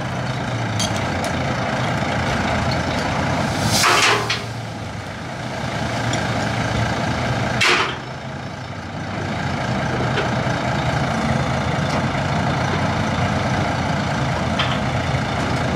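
A car transporter truck idles with a heavy low diesel rumble while moving its loading platform forward with a car aboard, steady and close, with two brief hissing bursts like air releases breaking through.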